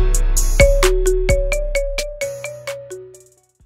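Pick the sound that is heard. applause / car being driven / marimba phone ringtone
marimba phone ringtone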